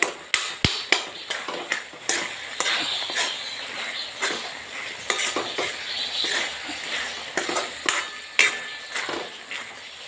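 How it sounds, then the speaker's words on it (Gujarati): Cooked tuvar and potato sabzi is mashed in a pan, with repeated close knocks and scrapes of a utensil against the metal in an uneven rhythm over a soft background sizzle. "ફટાફટ હું મેશ કરી દઉં છું અંદર"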